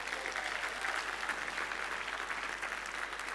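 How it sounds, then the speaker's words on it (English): A keynote audience at QuickBooks Connect Melbourne 2019 claps in steady, dense applause that holds at an even level throughout, with no cheering or voices standing out. "Let's give a big round of applause to Bianca."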